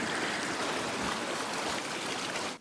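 A swollen mountain river rushes in a steady, loud broadband roar, its turbulent current surging continuously close by with no pauses.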